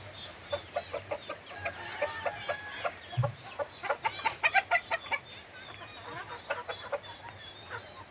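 Chickens clucking on an organic farm where guinea fowl are kept among the birds, a steady run of short, repeated clucks and calls at moderate distance over low background noise.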